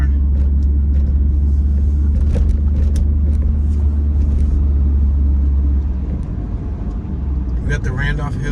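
A car drives through a Charlotte, North Carolina neighborhood at about 20 to 25 miles per hour, with a loud, constant low engine and road rumble from inside the cabin, easing slightly near the end.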